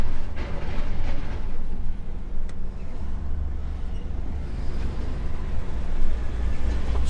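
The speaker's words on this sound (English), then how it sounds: "Just come through this tiny little village with this noisy trailer, causing mayhem." A noisy trailer rattles and rumbles while being towed through a tiny village, a steady loud low-pitched vehicle drone with clattering throughout, close and continuous with no voices.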